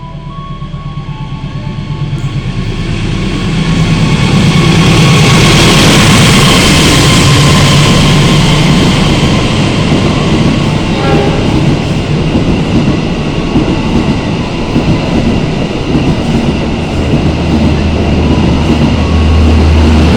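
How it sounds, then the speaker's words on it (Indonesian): The Argo Dwi Pangga passenger train speeds through Cikarang station, heard from a nearby train. A loud, sustained roar and rumble of wheels on rails builds quickly and holds steady, with a tonal whine, and no one speaks. "itu tadi kereta api Argo Dwi Pangga sudah melintas stasiun Cikarang dan menyusul Argo Merbabu tambahan"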